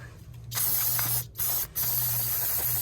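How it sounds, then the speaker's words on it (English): Brake cleaner sprays onto the brake caliper of a 2020 BMW X3 in loud, close hissing bursts, with two brief pauses between them. "if you have some brake clean, I say clean your caliper."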